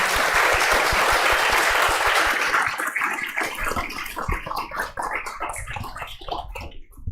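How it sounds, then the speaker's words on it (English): Warm applause from a congregation at a Mother's Day Won Buddhist service, thick and full at first, then thinning into scattered individual claps that trail off toward the end. "Please give a big applause to all our teens and children and grown-ups who shared their stories today"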